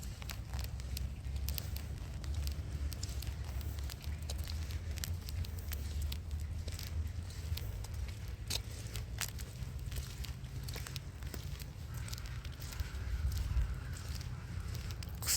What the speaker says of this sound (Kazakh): Табиғат өзінің керемет құбылыстарын көрсетіп тұр, жаңбыр жауып тұр дегендей.